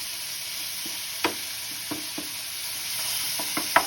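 Spiced masala with melting tomato, loosened with a little hot water, sizzles steadily in a kadai for a Bengali boal fish curry. Soft scattered spoon scrapes and clicks of stirring sit over a constant close hiss, with no talking.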